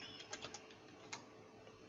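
A computer keyboard is typed on quietly for a short command, a handful of soft, irregular clicks over a faint background hiss.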